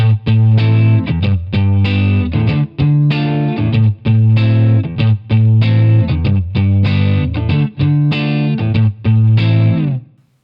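Distorted electric guitar strums a series of loud, chunky chords from the verse of a song in a steady rhythm with brief gaps, ending on a ringing chord that fades out.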